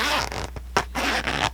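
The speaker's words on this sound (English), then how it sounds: "Love the sound of that zipper, don't you?" A zipper on a small leather GoPro accessory case being pulled open, close and crisp, in several quick rasping strokes with brief pauses between them.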